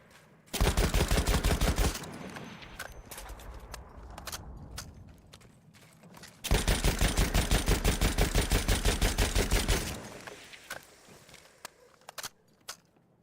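A slow-firing World War I gun in a video game fires two sustained bursts of evenly spaced rapid shots, each lasting a few seconds. Scattered clicks, mechanical handling noises and footsteps fill the gaps between bursts.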